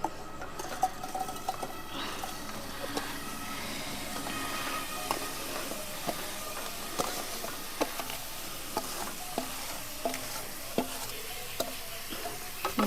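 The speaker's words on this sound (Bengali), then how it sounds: "এবার আমি ঢেকে রাখা জলপাইগুলো কড়াইতে দিয়ে দেবো।" Olives hiss quietly in a hot kadai with dried chillies and bay leaf for a jolpai pickle, a soft continuous sizzle broken by scattered light clicks and taps from the pan.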